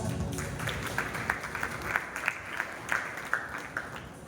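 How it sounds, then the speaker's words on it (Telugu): Children clap at a Christmas celebration at a prayer house in Nellore, a fairly quiet, roughly rhythmic run of claps, about two or three per second, over a soft room murmur. "Once again claps."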